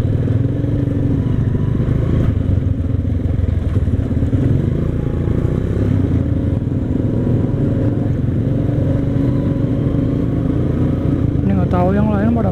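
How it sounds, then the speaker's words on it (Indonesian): A custom chopper motorcycle rumbles steadily through its exhaust at an outdoor classic custom bike gathering, a continuous low drone heard at moderate distance beneath nearby talking. "Sampai sini kedengeran ya, chopernya itu."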